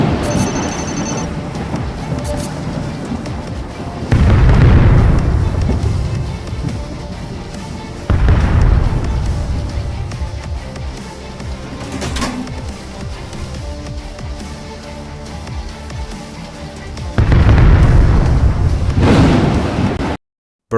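Cannon fire and explosions from a naval battle video game, with several heavy booming blasts spaced a few seconds apart over a steady background of game noise.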